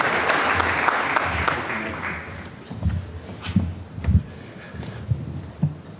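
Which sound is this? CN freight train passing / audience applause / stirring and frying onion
audience applause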